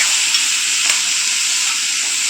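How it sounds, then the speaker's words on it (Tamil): Tomatoes and black urad dal sautéing in a pan for chutney, a steady, bright frying hiss close by with one soft stirring knock, and no speech. "இது கூடயே தக்காளியும் போட்டு வதக்கலாம் நல்லா தக்காளி நல்லா குழைய வதக்கணும்"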